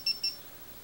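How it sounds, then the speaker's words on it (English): GoPro HERO camera giving two quick, high, clean electronic beeps in a row as recording stops, close but quiet, followed by faint room hiss. "Push the button again to stop recording."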